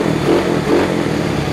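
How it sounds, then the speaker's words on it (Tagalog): A Mio scooter motorcycle engine keeps idling after its charging fuse has been pulled, a steady close-up mechanical rumble with a faint rhythmic clatter and no talk. "Tanggalin yung fuse, pero nagana pa rin."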